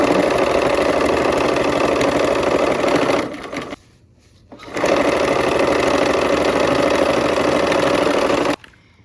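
A sewing machine runs the final seam of a project in a fast, loud, continuous whir that stops briefly, starts up again and then cuts off near the end.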